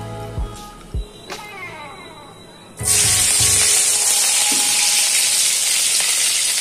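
Chopped chilli drops into hot oil in a wok and the sizzle surges at once into a loud, steady, broadband hiss, with a few faint clinks and soft knocks before it.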